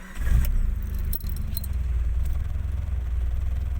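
A car engine is started with the key, a brief jangle and crank followed by a steady low idle rumble that runs alone to the end.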